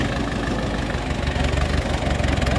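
A 1972 International 276 tractor, English-built and fitted with a tiller, runs with a loud, steady, close-up diesel throb that never changes pace.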